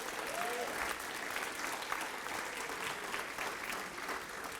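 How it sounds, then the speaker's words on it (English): A graduation ceremony audience claps together in steady, dense applause that holds at an even level throughout, with some voices faintly mixed into the crowd noise. "So let's give our students a big round of applause today."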